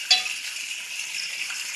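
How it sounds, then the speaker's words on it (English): Butter and fat with garlic spooned over pasture-raised pork chops in a hot pan: a steady close sizzle with one brief clink of the spoon at the start, no voices. "I've just been spooning some of this butter and fat with this garlic down on top of this"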